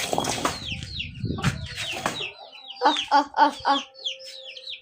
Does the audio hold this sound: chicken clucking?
yes